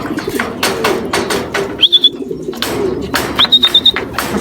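Young racing pigeons at a training flight coo in low, repeated murmurs, joined twice by short, bright whistling chirps, all close and fairly loud.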